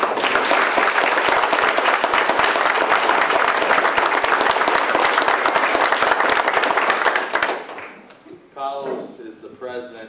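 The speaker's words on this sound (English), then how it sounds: "give a round of applause to Carlos for helping" Schoolchildren at the Fonseca School give Carlos a round of applause, a loud, dense burst of clapping lasting about seven seconds before it fades and an adult voice starts talking.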